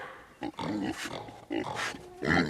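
A pig on a farm grunts and oinks in several short, close bursts with brief pauses between them, heard clearly and alone.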